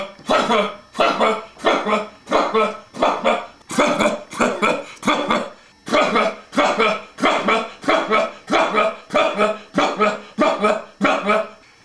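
A voice imitates the weird noise of a broken waffle maker with loud, rhythmic, rasping bursts repeated about twice a second, sounding much like barking or coughing.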